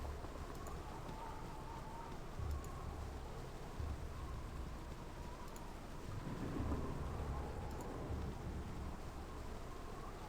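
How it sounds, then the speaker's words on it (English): Steady heavy rain with low rumbling thunder rolling underneath, swelling louder around the middle, in the video game Baldur's Gate; no voices, a constant stormy wash throughout. "Wind and rain and thunder."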